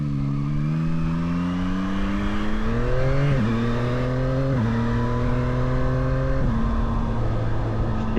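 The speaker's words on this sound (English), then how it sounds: "this bike gets up to speed so quickly" A 2024 Yamaha MT-09 SP motorcycle accelerates hard on a rural road, its engine note rising steadily through several gear changes, loud and close throughout with no talking.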